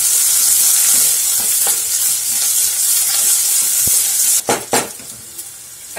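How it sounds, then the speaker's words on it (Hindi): Onion and ginger fry in a pan for baingan bharta, a bright, constant sizzle and hiss, with several sharp scraping and clattering strokes of a utensil stirring near the end, loud and close with no voices. "अब मैं इसमें ये अदरक डाल दूंगी और इसे भी हम भून लेंगे।"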